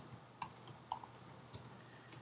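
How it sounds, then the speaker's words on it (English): Scattered key clicks from a computer keyboard as text is typed into Microsoft Word, a few separate taps spread over about two seconds, quiet and close with no talking. "So why don't I start off by typing some text"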